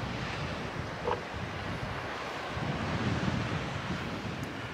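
Strong wind buffets the microphone on a seaside links golf course at Ardglass, a continuous loud rushing roar with gusts and no talk.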